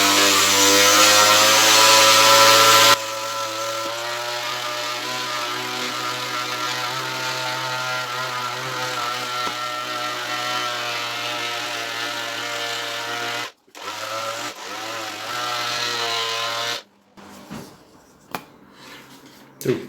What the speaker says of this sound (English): so I'm going to start sanding. The only thing is I have an industrial sander,